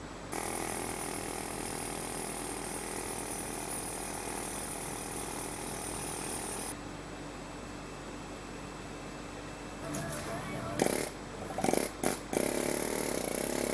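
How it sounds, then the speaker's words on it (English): A Kincrome K13258 pneumatic needle scaler hammers into a tight spot, a harsh rapid rattling buzz that runs steadily, then drops and turns choppy with short bursts near the end. "this needle scaler, shove it straight into a tight spot, and as you'll see, it actually cleans it up really well."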